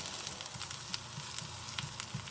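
Onions frying in a pan while being cooked for Beijing beef, giving a steady close sizzle with soft crackles and light stirring scrapes throughout.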